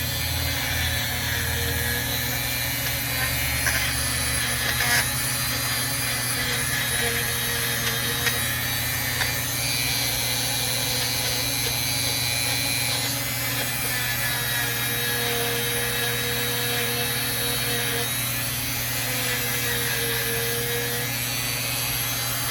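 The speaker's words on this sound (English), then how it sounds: "I got the brush out, I might as well clean it off" A brush scrubs corrosion off a pressure washer or snowblower carburetor, a steady loud scratching rasp that runs on continuously up close, with a constant mechanical hum underneath and no speech.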